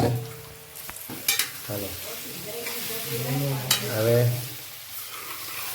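White sesame seeds crackling in hot tempering oil, a soft continuous sizzle with stirring scrapes and a few sharp pops, while a voice talks over it.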